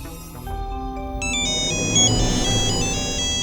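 A phone ringtone rings out at a dining table, a loud, bright electronic melody of repeating high tones that starts about a second in and keeps going, alone without talk.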